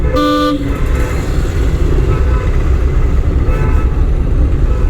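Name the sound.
car horn honking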